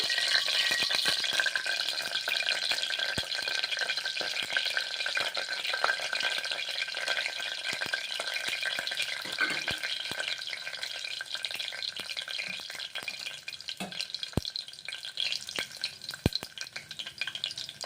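Tempering spices sizzle and crackle in three teaspoons of hot oil with a steady hiss and scattered pops and stirring clinks close by.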